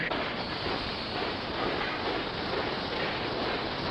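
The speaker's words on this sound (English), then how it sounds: "The Royal Train is running away" A continuous rumbling roar of a cartoon royal train in motion, steady and fairly loud, with faint rhythmic clatter underneath and no voices.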